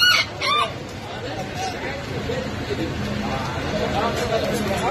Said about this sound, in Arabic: هذا الديك مضرب وفراتي